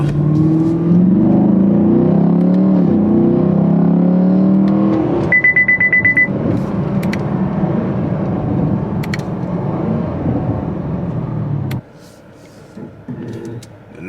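A 2019 Chevrolet Camaro 2SS engine revs loudly and close by, with rumbling exhaust and crackling burbles that swell and fall for several seconds before the noise suddenly drops to a quieter idle near the end.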